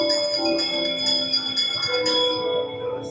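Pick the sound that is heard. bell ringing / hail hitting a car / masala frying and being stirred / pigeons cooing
bell ringing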